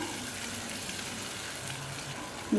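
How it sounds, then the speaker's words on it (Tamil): Water pours steadily into a cooking pot in a continuous splashing stream for a couple of seconds, fairly close, with no talking. "கொஞ்சமாக தண்ணி ஊற்றிக்கலாம்"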